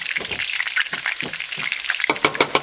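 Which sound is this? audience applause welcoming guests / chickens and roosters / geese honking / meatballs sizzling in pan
meatballs sizzling in pan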